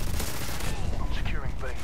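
Rapid Mini Uzi submachine-gun fire in the Modern Warfare 2 video game, with dense, continuous bursts filling nearly two seconds at close range and loud.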